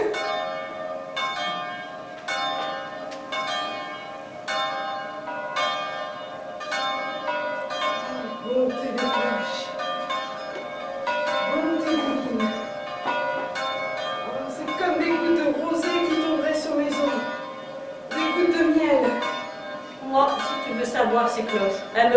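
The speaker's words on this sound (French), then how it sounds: "Tiens. Les cloches." Church bells ring in a steady, overlapping peal, clear and fairly close, with a voice briefly speaking over them partway through.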